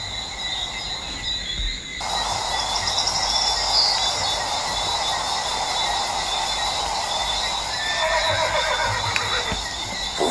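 A horse neighs among crickets and insects on a ranch, the whinny rising over a dense, continuous outdoor buzz that stays loud throughout.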